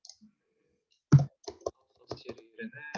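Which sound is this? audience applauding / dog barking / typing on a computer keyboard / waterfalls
typing on a computer keyboard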